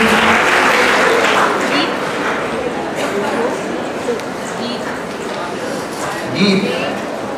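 Audience applause at the Miss Yoga India contest, a loud, dense wash of clapping from a sizeable crowd that carries steadily through the whole stretch with a slight swell near the end.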